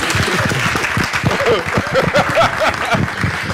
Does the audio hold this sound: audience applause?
yes